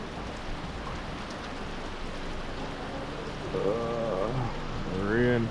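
Rain falls steadily at Spur Tree, Jamaica, a dense hiss of drops heard during a road trip, with voices speaking over it in the second half.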